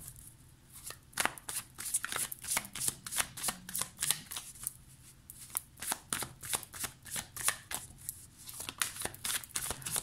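The Light Seers Tarot cards are shuffled by hand in quick, close, repeated riffles and slides, a brisk papery flutter in bursts over a quiet room, with no speech.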